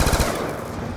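Loud, rapid automatic gunfire from Call of Duty Black Ops 2 Zombies, a dense burst of shots hammering continuously at close range through the whole moment.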